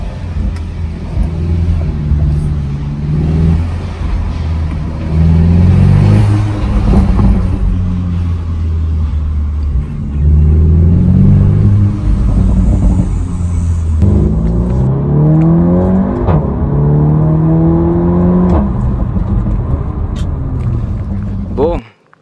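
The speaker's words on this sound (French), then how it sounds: "3000 tours, vous avez ce petit retour d'échappement qui fait plaisir" A Volkswagen T-Roc R, 300 hp, with an Akrapovic exhaust revs repeatedly from inside the car, loud rising and falling engine pulls around 3000 rpm, with a voice talking over parts of it.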